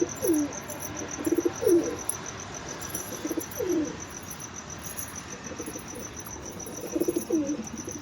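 A male pigeon coos with its wings spread, giving several rolling, throaty calls at a steady pace. Under the coos there is a constant high insect whine and a busy outdoor hiss, and no one speaks.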